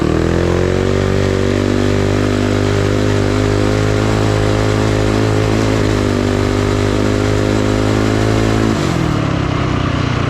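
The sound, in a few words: Coleman B200RSV mini bike engine running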